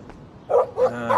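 A dog barks three times in the video game Life is Strange, near a dirty RV; the barks are short and evenly spaced, with faint background sound between them.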